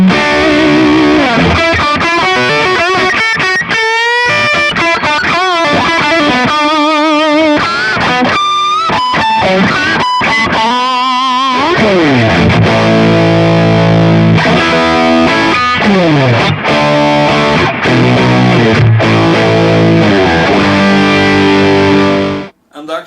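Electric guitar played through stacked distortion pedals modelled in a Kemper Profiling Amp, loud and saturated, with chugging chords and bursts of sustained notes broken by short pauses, cutting off abruptly at the end.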